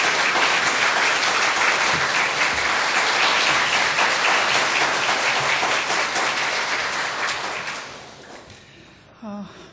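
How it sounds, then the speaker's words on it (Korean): A church congregation applauds to welcome a preacher to the pulpit, with loud, sustained clapping that fades out near the end as a brief voice and a thump follow. "우리 전사님 나오실 때 박수로 한번 환영하겠습니다"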